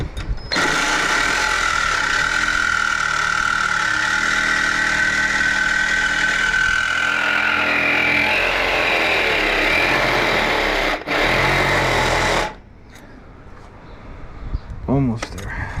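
A power tool cuts a part during a supercharger install on a Lexus IS F, a loud, steady, buzzing whine that runs for about twelve seconds before cutting off, followed by quieter sounds and a voice.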